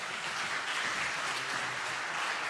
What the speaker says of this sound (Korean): 우리 목사님 나오실 때 큰 박수로 환영하겠습니다.